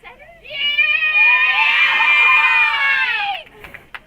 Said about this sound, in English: To thunderous applause